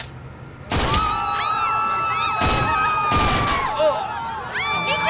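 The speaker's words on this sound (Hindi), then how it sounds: "ट्रक में से गोली चलने की आवाज आई है।" Several loud, sharp gunshots fired from a truck ring out over a noisy crowd, with shouting and high screams throughout.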